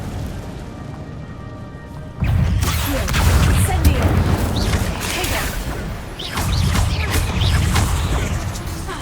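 Incendio fire spell in Hogwarts Legacy, a sudden loud whooshing burst of flame that roars on steadily and swells again near the end, with game music and a voice over it.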